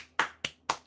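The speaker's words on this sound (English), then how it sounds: "Round of applause." Three sharp hand claps, evenly spaced about a quarter second apart, close and clear with no voices.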